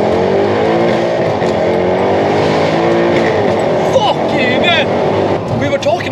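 A Mercedes C63 AMG engine revs hard toward 7,000 rpm, its loud sustained roar rising with harmonic sweeps, while people talk and exclaim over it.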